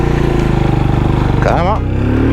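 A Benelli Imperiale 400 motorcycle rides through city streets, its single-cylinder engine thumping steadily up close, with a brief rise in revs near the end as talking carries over the engine note.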